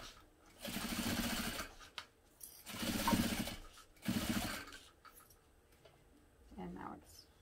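Sewing machine stitching in three short bursts to baste foam in place, each run a rapid whirring rattle, followed by quieter handling sounds.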